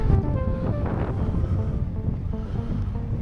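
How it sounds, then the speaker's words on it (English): Wind roaring into the microphone of a rider cycling into a headwind at the New Forest Classic road event, a loud continuous buffeting rumble with no speech. "That wind!"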